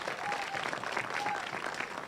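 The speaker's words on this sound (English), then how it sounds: "Let's give our parents a round of applause" An audience at a school ribbon cutting ceremony gives parents steady applause. It is a moderate, continuous wash of clapping from a mid-sized crowd, with murmured voices mixed in.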